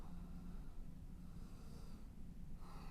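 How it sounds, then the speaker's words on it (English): Slow ujjayi breaths drawn in and out through the nostrils during a hatha yoga flow, a soft, close, hissing rush rising and falling in long waves with a brief pause between them. "Ujjayi breathing here,"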